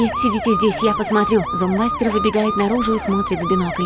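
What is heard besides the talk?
zombie warning alarm siren going off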